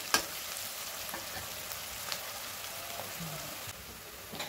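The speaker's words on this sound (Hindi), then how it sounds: "अब इसमें हम चॉप्ड किए हुए प्याज डालेंगे। अब हम इनको गोल्डन ब्राउन होने तक पकाएंगे।" Chopped onions frying in a pan of hot oil with browned garlic, making a steady, soft sizzle with faint crackles and an occasional stir, close and fairly quiet, with no talk.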